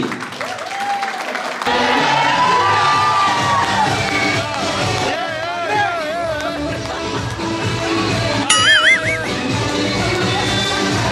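A crowd at a mehendi celebration in Mangalore cheers, whoops and claps, a loud continuous roar with whistles and shouts rising over background music.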